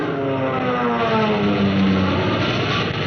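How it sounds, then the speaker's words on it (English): Fighter planes in a wartime radio drama about Malta Spitfires, a steady droning engine roar with a slight pitch drift, loud and unbroken with no voices. "Your planes, zooming up to fight for those ships."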